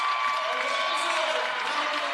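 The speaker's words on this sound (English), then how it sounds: "And a well-deserved round of applause." Applause and crowd noise fill a college women's basketball arena after a Carson-Newman win, honoring the coach; a steady, dense wash of clapping from fans continues throughout.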